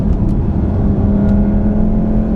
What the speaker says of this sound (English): Bit of a jarring downshift there when I went down off throttle.